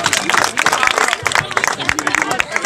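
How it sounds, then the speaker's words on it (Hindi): Audience applause for a child's stage performance at a public event, a dense, steady burst of clapping from a crowd lasting a few seconds with a busy, continuous texture. "एक बार जोरदार तालियां इस बच्चे के लिए।"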